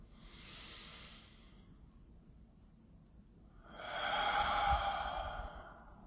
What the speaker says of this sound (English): We're taking a deep breath together.